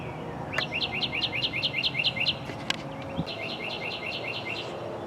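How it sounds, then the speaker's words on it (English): Birds chirping in a Tennessee garden in spring, a small bird repeating quick bright trilled phrases at moderate distance over steady outdoor background noise. "And the birds are happy."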